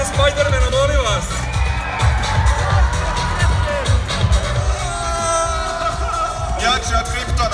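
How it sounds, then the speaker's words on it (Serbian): A festival crowd at a live event in Sarajevo cheers and whoops loudly for a performer in a Spider-Man costume, a dense, close roar of voices with shouts that continues under an MC talking. "Aplauz za Spider-Mana, molim vas!"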